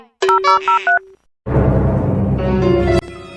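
A telephone keypad gives a quick run of several distinct dialing tones, followed by a louder burst of dense noise and then a steady tone, all clear and close with no talking.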